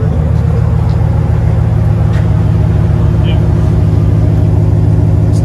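A Dodge Ram with a 5.7L HEMI V8 and aftermarket exhaust idles with a loud, deep, steady rumble close by, rising slightly as it is given light throttle.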